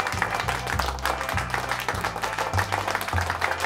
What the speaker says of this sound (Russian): всем спасибо за аплодисменты